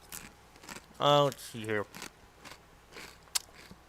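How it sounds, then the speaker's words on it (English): Close crunching and biting of Doritos tortilla chips, crisp irregular bites near the mic, with a person briefly speaking in between. "Just chewing in on these Doritos."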